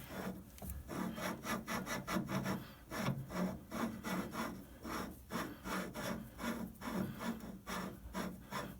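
A part lapped by hand with lapping compound, giving a steady back-and-forth gritty rubbing rasp, repeated rhythmically at about two strokes per second, close and moderately loud.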